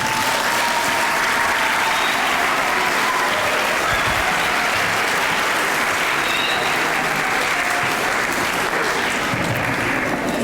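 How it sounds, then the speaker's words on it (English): A graduation audience at a 6th grade ceremony applauds loudly and continuously, a dense, even wash of clapping that fills the hall with no break throughout. "One more round of applause, please."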